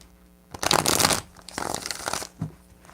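Tarot cards are riffled and shuffled in two quick bursts of crisp flapping, followed by a soft tap as the deck settles.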